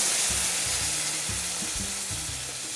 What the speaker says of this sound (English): I've now put in half a tin of coconut milk, and this is going to simmer for a few minutes.